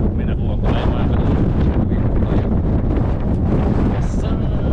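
Strong wind blows hard outdoors in a steady, loud rush that buffets the microphone without pause, with faint hints of movement underneath.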